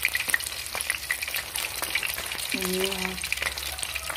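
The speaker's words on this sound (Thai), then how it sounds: "ปลาไข่ชุบแป้งทอดกรอบนะคะชุบแป้งทอดนะคะ" Steady crackling sizzle of battered fish with roe frying in hot oil, close and continuous, with a brief low hum and a short spoken remark.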